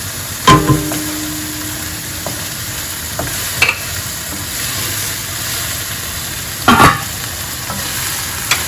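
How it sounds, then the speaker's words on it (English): Minced meat frying in oil with a steady sizzle for jollof rice, punctuated by a few sharp scraping stirs of a utensil against the pan. "especially when you're frying it for the jollof."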